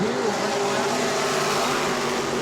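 Race cars thunder around a racetrack at a New Smyrna family fun night, a loud, close, sustained engine roar with no break, filling the whole moment.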